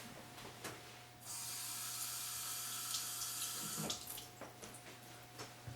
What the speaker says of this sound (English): Rinse them off, rinse your knife.